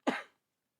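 A single short cough, close and sharp, followed by silence.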